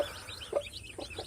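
Short soft clucks from a brooding hen with her day-old chicks, a few brief low calls close by against a quiet background.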